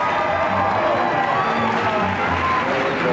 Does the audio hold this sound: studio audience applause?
yes